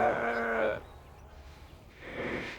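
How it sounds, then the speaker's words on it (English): A sheep on railway tracks bleats once, a loud wavering bleat up close, followed by quieter background noise and a softer second bleat near the end. "There were sheep on the tracks."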